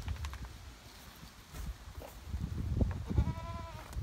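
A goat on a homestead lets out a short wavering bleat near the end, preceded by soft rustling and low thumps in a quiet outdoor setting.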